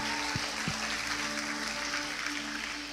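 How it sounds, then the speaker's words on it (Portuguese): A church congregation applauds together, a steady wash of clapping at full volume that holds for the whole span, with a sustained musical tone humming underneath and a couple of low thumps near the start. "Então uma salva de palmas pela vida deles"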